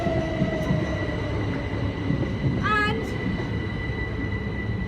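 A class 313 electric train pulls away near the Hampden Park level crossing, a steady rumble with a brief squeal of wheels or brakes midway, heard fairly close.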